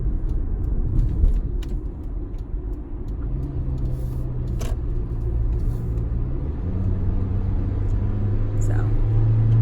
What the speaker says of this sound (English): So that's my car, if you're wondering.